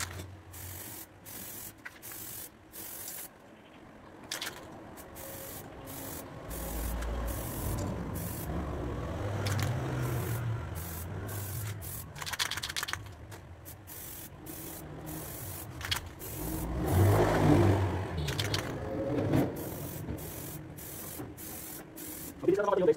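Quick-dry clear coat is sprayed onto a fiberglass repair in irregular hissing bursts with mechanical clicks between them, moderately loud, and a faint voice is occasionally audible in the background.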